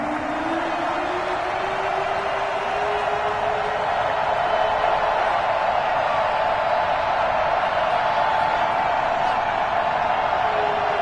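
A steady stadium crowd roar from an EA Sports football game on PS5, Los Angeles Rams against Seattle Seahawks, fills the whole stretch as a dense, even wash of noise with a faint sustained tone running through it.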